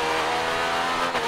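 A Yamaha motorcycle engine in the racing game Ride 3 revs hard and high, a loud continuous whine with a slight dip near the end and no talking over it.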